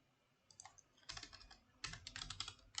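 Typing on a computer keyboard, bursts of quick clicking keystrokes in irregular runs with short pauses, close and fairly quiet, no talking.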